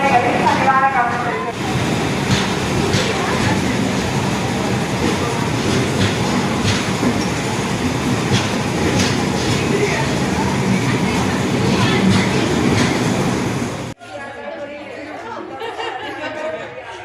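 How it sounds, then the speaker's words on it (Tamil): An Amrit Bharat Express hauled by a WAP-5 locomotive pulls into a station platform with a loud, steady rumble and rattle of rolling wagons. Crowd chatter and station talk sit beneath it, and the sound drops off sharply near the end. "அம்ருத் பாரத் எக்ஸ்பிரஸ் முதலாவது பிளாட்பாரத்துக்கு வந்து கொண்டிருக்கிறது."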